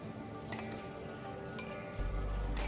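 A spoon clinks against a drinking glass as water is spooned in for a diffusion and osmosis experiment, a few bright, quiet taps spread over a faint steady hum.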